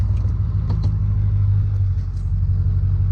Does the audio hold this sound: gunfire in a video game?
no